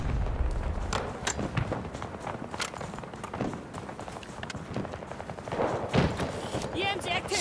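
Gunfire in the Battlefield 2042 video game, with scattered shots and bursts mixed with running footsteps and general battle noise at moderate volume, while a person talks intermittently.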